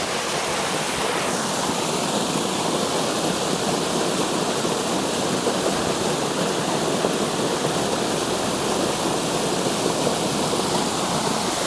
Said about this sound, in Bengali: এই যে পাথরের ফাঁক দিয়ে চলে আসছে, এসে এখানেও আরও একটা ঝর্ণা তৈরি হয়ে গেছে।